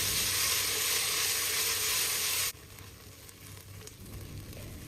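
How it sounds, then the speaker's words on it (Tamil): Onions sauté in a pan for a pressure-cooker mutton curry with a loud, dense sizzle close by. Halfway through, the sizzle drops suddenly to a quieter, steady frying hiss, and there is no talk. "வெங்காயம் நல்லா வதக்குங்க"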